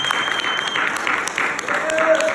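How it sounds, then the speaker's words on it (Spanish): Church congregation claps together in steady, continuous applause, with a few voices audible in the mix. "Démosle un fuerte aplauso al Señor"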